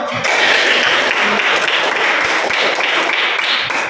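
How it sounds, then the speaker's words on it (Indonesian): A classroom of students applauding a classmate's correct answer in a maths lesson, loud, close, dense clapping that holds steady for several seconds. "Tepuk tangan dulu."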